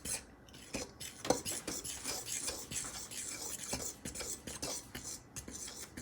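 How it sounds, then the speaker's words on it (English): A fork scrapes and clinks steadily against a bowl as warm liquid is worked into cinnamon roll dough, close and continuous with no talking. "I'm just pouring a little bit at a time and mixing it in with my fork."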